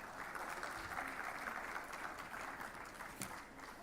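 Faint applause from an audience at a consumer expectations session, a distant, muffled wash of clapping held at low level throughout.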